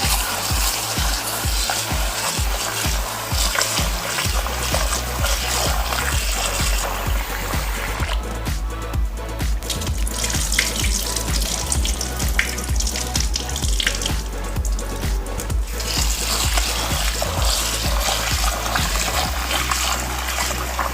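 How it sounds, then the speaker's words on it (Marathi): Urad dal lentils are washed in water for dahi vada, with a continuous swishing and splashing of water and grains, close and steady throughout with low rumbling tones beneath. "आता ही डाळ आपण चांगली धुवून घेऊया।"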